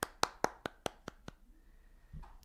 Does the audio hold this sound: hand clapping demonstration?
yes